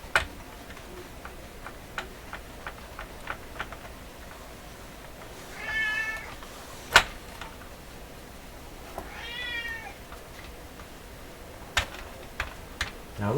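An older cat meows twice, drawn-out calls at moderate distance, over a quiet room with steady faint ticking and a few sharp clicks.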